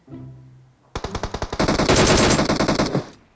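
Loud, close automatic gunfire in the mobile game PUBG Mobile, starting with a short rapid string of shots and swelling into a dense sustained burst before stopping abruptly.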